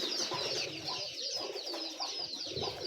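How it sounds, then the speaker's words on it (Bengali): A flock of local pigeons perched on a roof coos steadily in low, overlapping rolling calls, with faint higher chirps over constant outdoor background noise and no talk. "আমার এই সবগুলো কবুতর এখানে"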